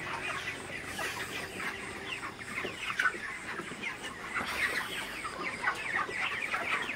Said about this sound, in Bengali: মুরগিগুলো এসে জড়ো হয়ে গেছে